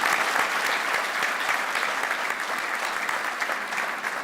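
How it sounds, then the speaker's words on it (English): An audience at the Joe Lapchick Character Awards applauds in a loud, dense, continuous wave of clapping that stays strong from start to end. "Can we give Bill a great round of applause?"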